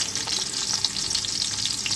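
Onions and potatoes fry in a little oil in a wok, giving a steady close sizzle with crackling bursts and stirring, with no talk.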